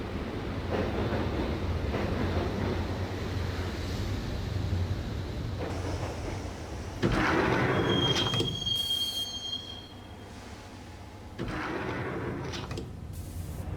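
Subway train ride in Max Payne, a steady loud rumble of wheels on rails with a sharp high squeal of steel partway through and a brief quieter stretch before the roar builds again.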